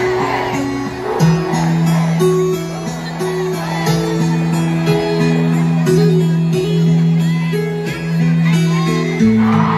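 A large outdoor political rally crowd in Davao cheers and shouts for Duterte, a loud, sustained roar of many voices mixed with a droning musical tone and scattered whoops.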